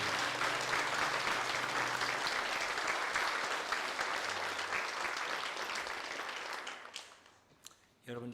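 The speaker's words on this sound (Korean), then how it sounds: "치유의 축복의 박수 한번 해드립시다" A church congregation at a Sunday service applauding together, dense sustained clapping that carries for several seconds, then thins out and fades, with a few scattered claps at the end.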